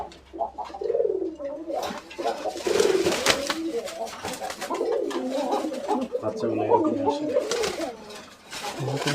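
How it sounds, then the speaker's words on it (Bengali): A pair of Koka pigeons at a pigeon farm cooing in soft, repeated throaty calls at close range, with people talking nearby and faint background clatter. "এক জোড়া কোকা কবুতর দেখতে পাচ্ছেন আপনারা।"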